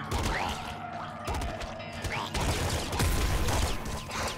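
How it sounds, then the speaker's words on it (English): Dense gunfire from bullets flying in the game Nuclear Throne, a continuous barrage of crackling shots and impacts layered with whooshing effects and game music. "that's a lot of bullets coming"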